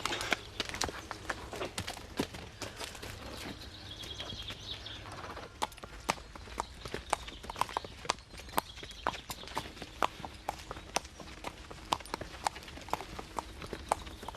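Horse hooves clip-clop steadily throughout, a regular walking rhythm of sharp hoof strikes at moderate distance over a constant low background rumble.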